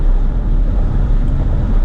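Strong, steady wind gusting around 45 mph buffets the microphone with a deep, continuous rumble that surges in gusts, loud throughout with no voices.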